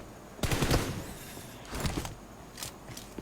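Video-game gunfire comes in three short bursts of rapid shots, moderately loud against a quiet background, with no voices.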